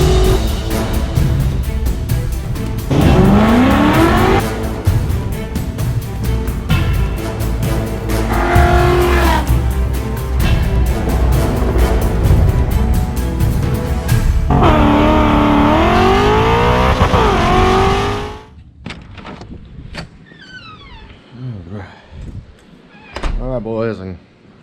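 A white 1988 GT with a Trick Flow top end kit (heads, cam, intake) drives hard. The engine roars loudly close up and revs through rising and falling pitch sweeps as it shifts, then drops to a much quieter idle and rolling sound for the last several seconds.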